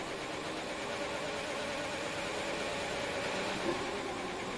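A video game race car engine drones steadily at a faint, even level with a hissy, buzzing texture from a gear glitch in GP2 at the Singapore Grand Prix, and no voices.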